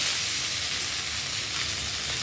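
Dried red chili broken in half and ponnanganni spinach frying in a pan for keerai poriyal, a loud, continuous close-up sizzle and hiss with no voices.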